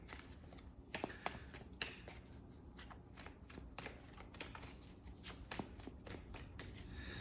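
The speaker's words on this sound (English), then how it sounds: "Animal spirit cards, okay? Something that to close off a reading." A deck of animal spirit cards is shuffled by hand for a reading, heard as quiet, continuous papery riffling with scattered soft taps and flicks, close and alone.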